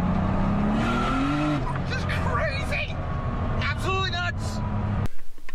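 A boosted 1974 Porsche Carrera spins its wide tires, engine revving with a rising note and squealing wheel spin in short bursts, with people talking over it.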